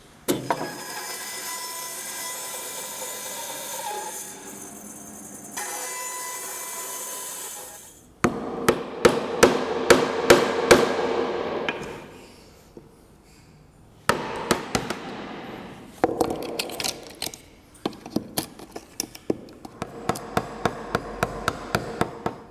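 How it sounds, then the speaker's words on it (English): Sharp chisel strikes and wood chopping clear waste from a dovetail on a budget split-top Roubo workbench build: after a sawing-like stretch, loud bursts of rapid hammering mallet blows come in clusters with short pauses, close and alone without talk. "So now I'm just making multiple cuts to the scribed line here to make it easier to remove this material with a chisel."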